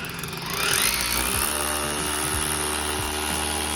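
A hammer drill whines continuously at close range, steady and loud, with faint low thumps as it bores, enlarging a small hole into a big one.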